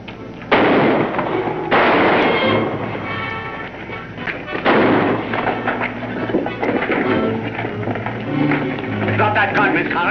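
Staged gunfight from a 1952 radio crime drama, a burst of loud gunshots and blasts cracking out over several seconds amid the scene's clatter and voices.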